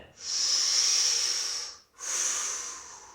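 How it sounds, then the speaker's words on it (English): Two long, deep breaths drawn during a held mid-back stretch for scoliosis, each a loud, airy hiss lasting over a second, close to the ear with a short pause between them. "take deep breaths, and count to 10"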